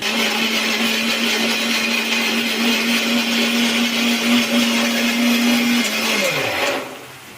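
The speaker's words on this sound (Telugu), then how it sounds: "ఇప్పుడే కూర టమాటాలు మిక్సీ పట్టుకుందాం" A kitchen mixer grinder purees tomatoes for a dried fish curry, its motor whining loud and steady at close range for several seconds before spinning down as it is switched off.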